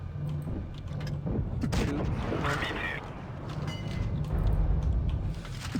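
Gunfire from a video game: repeated sharp shots and booms in an uneven sequence over a dense, busy game soundscape.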